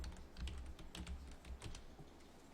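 Typing on a computer keyboard gives rapid, close clicks in an uneven rhythm over a soft background hum, with no voice.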